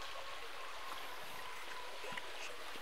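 A stream flows right past the front of village houses after a storm, a faint, steady watery hiss and trickle running continuously throughout.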